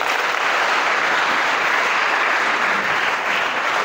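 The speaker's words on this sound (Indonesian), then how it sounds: "Tepuk tangan buat pendengar kita hari ini." Steady, dense applause from a seminar audience of future Darul Uluum Lido administrators fills the room from start to finish, with loud clapping at a consistent level and no talk.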